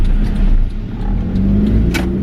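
Proton Jumbuck ute with a Mitsubishi 1.5-litre single-cam 4G15 engine revving, a steady low engine drone with a slight rise and fall, fairly close and loud, no talk over it.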